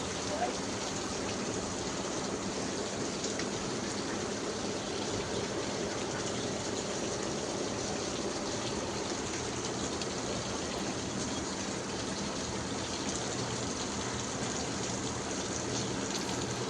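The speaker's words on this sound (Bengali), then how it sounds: "তো চারিদিকে অনেক পানি পড়ছে, হঠাৎ করে অনেক বৃষ্টি হলো।" Heavy, sudden rain pours down outside a balcony, a dense, constant hiss of falling water and splashing that holds steady and fairly soft throughout, with no break or rhythm.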